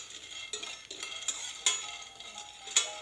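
Pre-roasted peanuts, about half a cup, dry-roasted and stirred in a pan: soft scraping and rolling with a few sharp clinks of a spoon against the pan, fairly quiet and close, with no talking.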